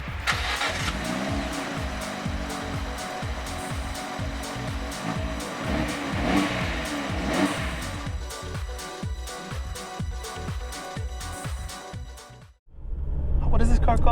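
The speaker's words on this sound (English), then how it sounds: "And this engine does have a really nice exhaust sound." A 2017 Fiat 124 Spider's turbocharged four-cylinder engine revs repeatedly with a throaty exhaust note, rising and falling through many pulses, close and loud, before a brief drop and a deep idle rumble at the end.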